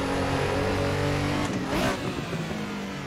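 Porsche 911 RSR engine in a racing video game on the Jaizkibel hill climb, revving loudly and continuously at high pitch, surging briefly as the throttle goes to full, with no talk over it.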